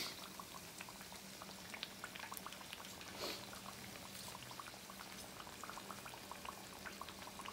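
Crappie fish frying in hot oil, a steady close crackling sizzle with dense popping bubbles throughout, quiet and without talk.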